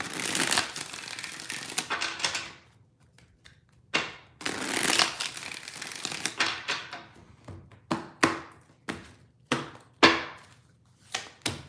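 Tarot cards being shuffled by hand, long riffles followed by a series of quick, crisp bridging flutters and taps, close and clear with no talking.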